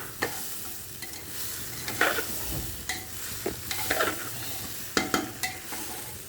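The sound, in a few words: khichuri frying in a pressure cooker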